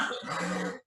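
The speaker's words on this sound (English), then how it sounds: "damn coronavirus cough" A single harsh cough lasting under a second, close and fairly loud, heard alone with no talking.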